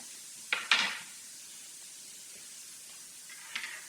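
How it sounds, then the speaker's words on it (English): Vegetables sautéing briefly in a pan for a meat pie filling give a faint, steady hiss, with a few sharp clinks of a utensil against the pan near the start and again toward the end. "And I'm going to saute it for just a minute, okay?"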